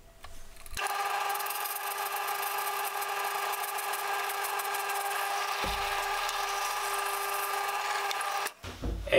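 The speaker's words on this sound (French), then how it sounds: "voilà la raison pourquoi j'arrête la perceuse à chaque fois" Power drill boring holes in a veneered ukulele headstock, a steady high whining buzz that runs about eight seconds, close and loud, stopping abruptly near the end.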